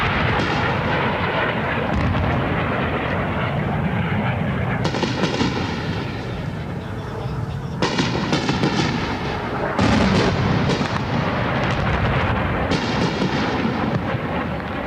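Indian Air Force jets sweeping low overhead during the 1971 war, a loud continuous roar with repeated swelling passes and booming bursts, heard up close without talk.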